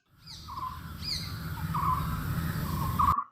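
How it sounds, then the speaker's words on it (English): Birds call in short squawking bursts, a few repeated cries over a low rumbling background, fairly close and alone without any voices. "Birds."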